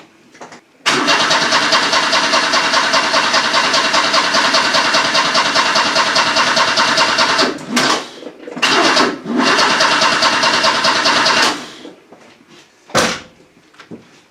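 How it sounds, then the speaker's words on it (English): Opel Kadett engine cranking with a swapped starter motor, a loud steady churning that runs for several seconds, then stops and restarts in short uneven bursts before going quiet. "It'll be interesting to see if swapping the starter motors over has made a difference to its cranking"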